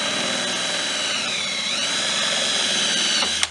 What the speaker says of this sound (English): I use the 7/32 drill bit to only take off the head of the rivet